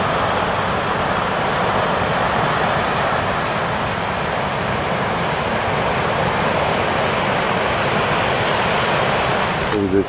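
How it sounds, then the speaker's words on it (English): Water trickles and seeps down a rock face at a beach, heard close up as a steady, fairly loud wash blended with surf and some wind buffeting, with no talking. "This waterfall coming down here."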